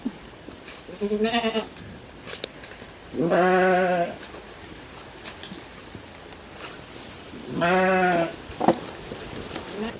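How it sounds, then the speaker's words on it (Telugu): A flock of sheep and goats heading out to graze gives three drawn-out, wavering bleats spaced a few seconds apart, loud and near, with soft rustles and faint knocks in the gaps. "మా గొర్రెలు అరుస్తున్నాయి"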